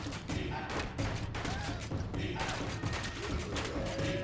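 Rapid gunfire bursts ring out in the Colt Canyon video game, loud and close, with repeated shots in quick clusters and mechanical clicks between them.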